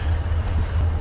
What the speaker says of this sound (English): Devil's Lake also has a train go by.